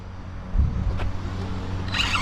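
A LADE88 S88R RC motorcycle starts with a brief low rumble that rises into a short buzzing rev near the end, close and fairly loud, with no voices.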